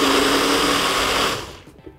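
Electric blender grinding a white spice paste for a tofu, tempeh and egg dish: loud, close, high-pitched whirring motor that runs steadily, then cuts off and winds down, followed by a couple of faint clicks.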